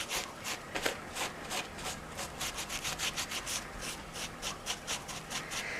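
Cloth doll being scrubbed to remove dirt, a soft repeated brushing and rubbing with uneven strokes, close and fairly quiet, no voices.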